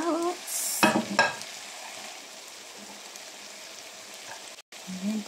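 Carrots tossed into pork giniling frying with tomato sauce: a couple of quick scraping clatters early on, then a soft, steady sizzle that briefly cuts out near the end.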